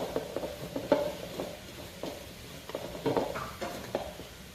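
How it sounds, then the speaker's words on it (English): A seasoning mixture for tomahawk steak being stirred by hand, with soft scraping and tapping strokes in an irregular rhythm, close and fairly quiet, without speech. "you just want to take your mixture and mix it up here"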